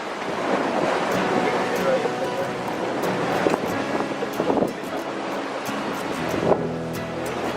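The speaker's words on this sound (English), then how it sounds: "We left A Coruña in some high winds and choppy seas" Wind and rough water around a sailing boat heading out of A Coruña in high winds and choppy seas, a loud, steady rush of gusts and surf that fills the whole stretch with a few brief swells in intensity.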